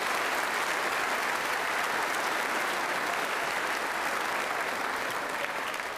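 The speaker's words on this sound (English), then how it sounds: "Let's give one more round of applause to our eighth graders" A crowd of families at a Central Middle School eighth-grade celebration gives steady, even applause, a dense wash of clapping from many hands sustained throughout without talk over it.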